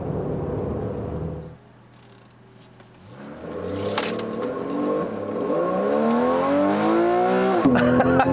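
A 2015 Porsche 911 Carrera S with about 30,000 miles revs hard, its engine note rising steadily in pitch across several seconds after a brief lull, loud and close from inside the car.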